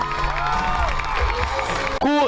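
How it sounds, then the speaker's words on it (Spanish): A group applauding and cheering at a music camp, a short dense wash of clapping and shouts with voices throughout, close and loud, ending in a sudden tonal shout. "Un aplauso para vosotros mismos"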